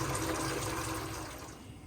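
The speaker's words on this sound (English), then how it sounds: "So here we've got your hot water running, so you'll be able to see the steam." Hot water running steadily from a tap in a 2024 Elddis Signature 194 motorhome, a close, loud hiss that tapers off slightly over two seconds with no talk.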